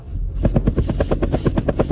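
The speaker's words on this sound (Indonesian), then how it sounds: "Helikopter yang bisa terbang di atas Jiangzhou." Helicopter flying: a loud, steady rotor chop with rapid regular thumping over a deep engine rumble, close and continuous throughout with no voices.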